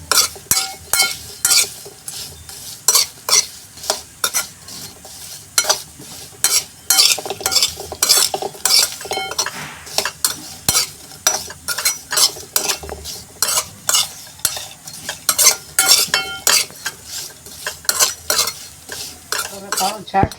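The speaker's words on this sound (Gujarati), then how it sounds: "હવે આ રીતે આપણે એને મિક્સ કરી દઈશું।" Chaat masala being mixed into purple yam chaat, a steady rhythmic series of close spoon clinks and scrapes against a bowl, repeating for about twenty seconds without talking.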